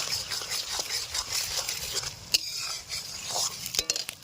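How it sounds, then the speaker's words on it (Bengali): Ginger and garlic paste with chopped onion fries in a pan for a fish roe masala curry, with a steady soft sizzle broken by a few scraping stirs and sharp clinks of a utensil against the pan. "দিয়ে দিলাম আদা বাটা, দিয়ে দিলাম রসুন বাটা। এবার এটাকে কিছুক্ষণ ভেজে নেব।"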